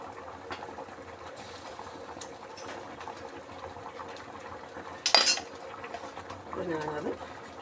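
A cooking pot of just-boiled curry is lifted off the stove and set down with one sharp metallic clatter amid quiet kitchen sounds, while a person talks before and after.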